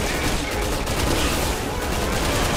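Continuous heavy gunfire from Resident Evil 6 roars in a dense, unbroken barrage, loud and close, with no clear gaps between shots.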